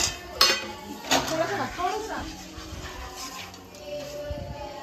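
A plate is handled and set down in a kitchen during outdoor chulha cooking of village-style chicken, with sharp dish clinks and clatter near the start, then softer handling noises under background chatter and ambient noise.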